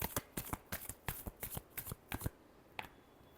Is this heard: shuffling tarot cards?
yes